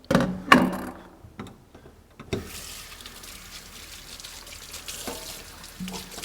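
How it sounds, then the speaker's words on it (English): Tap water runs steadily into a kitchen sink as a knife is rinsed, a broadband hiss starting after a few brief clatters and holding at moderate level until the end. "Rinse my knife off"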